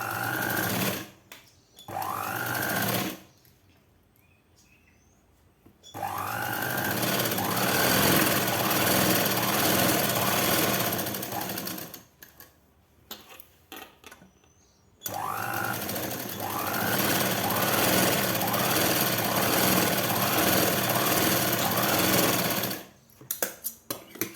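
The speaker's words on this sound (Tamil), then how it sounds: "முதல்ல பட்டி ரஃப்பாக இப்படி அடித்து வச்சுக்குவேன் நான்" A sewing machine roughly stitching the waistband of a 42-inch blouse, its loud, close, fast mechanical rattle running in long stretches broken by brief pauses, with no talk.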